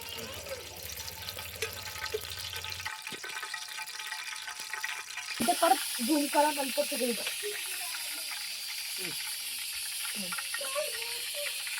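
Oil sizzles in a village chicken gravy cooking on a wood-fired stove, a steady close hiss throughout that grows louder and crackles partway through, with some voices over it.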